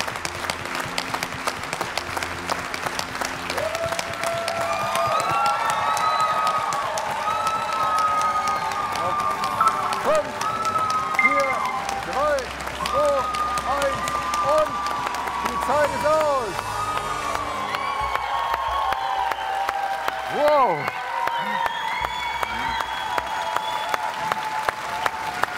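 A TV studio audience applauds after a tap-dance challenge, sustained loud clapping and cheering that carries on while a presenter talks over it.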